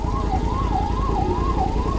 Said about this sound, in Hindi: देखो एम्बुलेंस को जाने नहीं दे रहे लोग।